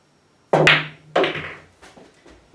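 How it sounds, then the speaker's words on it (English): A pool cue striking the cue ball on a billiard table: two sharp, close clicks about half a second apart, each followed by the rolling ball and fainter knocks of ball contact. "I'm going to shoot it one more time. This time I'm going to use the right edge of the cue ball."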